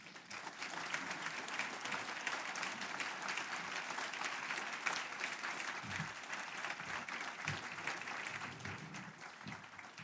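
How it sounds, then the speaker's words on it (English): An audience at an education conference session claps in a steady, dense round of applause, continuous and even throughout, with a few faint low thumps near the end. "please give them a round of applause"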